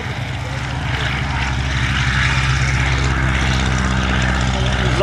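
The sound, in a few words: Focke-Wulf FW44 Stieglitz biplane flying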